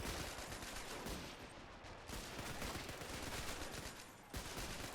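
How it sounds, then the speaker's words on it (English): Sustained machine gun fire in the Men of War Assault Squad video game during a WWII beach defense at Guam, with dense overlapping bursts that briefly drop out twice before resuming. "They're machine guns. I love that sound."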